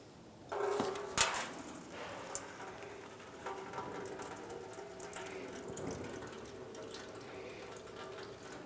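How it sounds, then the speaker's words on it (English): Engine coolant drains from an opened drain on a 2005-2007 Ford Five Hundred into a catch can below, a steady splashing trickle that starts abruptly with a brief gush, then runs on evenly at close range. "we want to have a catch can or a bucket underneath to catch the coolant that is going to come out"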